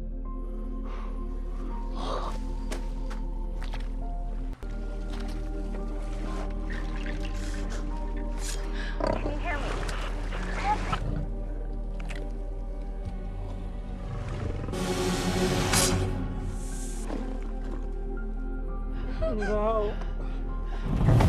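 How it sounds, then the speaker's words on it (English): A lion growls and roars in a film scene, deep rumbling bursts mixed with rustling, thumps and other scene sounds, loud and close in places and alone without talk. "Suddenly, they hear the lion growling and then attacking everyone."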